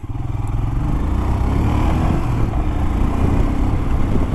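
A Royal Enfield Himalayan's 411cc air-cooled single-cylinder engine, making 25 horsepower, drones steadily and loudly while riding, with a constant low rumble and no talking.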